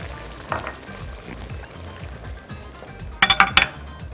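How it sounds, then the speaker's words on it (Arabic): Pine nuts drop into hot oil in a pan with garlic, a continuous crackling sizzle carrying throughout, topped near the end by a quick burst of metallic clinks from a utensil against the pan. "عايزاه يتحمص شويه مع الزيت. دلوقتي ممكن انزل له الصنوبر"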